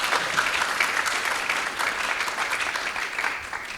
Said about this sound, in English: Let's give Quentin a round of applause